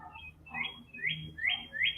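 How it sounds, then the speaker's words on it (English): Small birds chirp in short, rising tweets, three or four calls spaced about half a second apart, moderately close outdoors over a soft background hum. "There's birds chirping in the background here."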